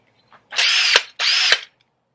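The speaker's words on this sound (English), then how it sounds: "auger." A power auger for digging post holes in gravelly ground, revved in two short loud whirring bursts of about half a second each, separated by a brief pause.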